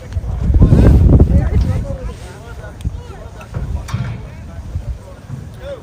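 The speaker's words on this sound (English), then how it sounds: "Got a little bit of wind here." Strong gusts buffet the microphone at an outdoor youth football tournament, giving a loud, low rumble that swells early and then settles into fainter, uneven blustering while a voice speaks.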